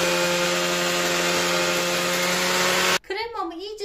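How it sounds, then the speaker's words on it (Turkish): An electric hand mixer whipping cream with a packet of whipped cream powder whirs loudly and steadily for about three seconds, then cuts off, leaving quieter clattering and voice-like sounds. "Kremam soğuduktan sonra içine bir paket krem şanti ekleyip çırpıcımla çırpıyorum."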